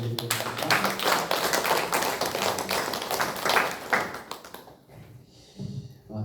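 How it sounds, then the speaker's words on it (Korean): A church congregation at a Sunday praise service applauds the pastor after his sermon; dense, steady clapping fills the room for several seconds, then fades into quieter scattered sounds. "우리 오늘 귀한 말씀을 전해주신 김병수 목사님께 우리 감사의 격려의 박수를 올려드리겠습니다."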